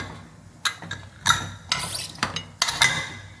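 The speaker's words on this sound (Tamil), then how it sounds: "நான் இப்போ லிட் போட்டு க்ளோஸ் பண்ணிடுறேன்." Metallic clanks and scraping knocks in several bursts as a pressure cooker lid is set on and fastened, with no talking.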